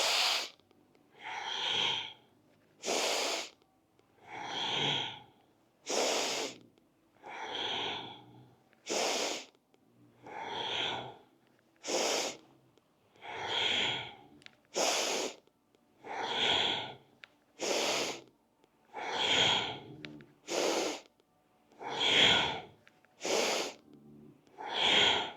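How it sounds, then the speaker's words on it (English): Deep rhythmic breathing during a Kundalini yoga bowing exercise: strong inhales on the stretch up and exhales on the way down, repeated about eighteen times in a steady, close, loud cycle. "We'll deeply inhale as we stretch up,"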